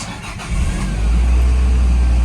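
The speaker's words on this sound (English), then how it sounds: "I'm going to take it on a drive now" Toyota MR2 with a manual transmission and rebuilt rear suspension starts up: a brief cranking gives way to a loud, close engine catching and settling into a steady, rumbling idle.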